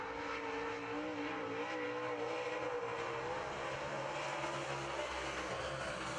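Modified race cars on the Red River Co-op Speedway dirt track roar in a heat race, a steady, fairly distant droning engine note with faint rising and falling pitch.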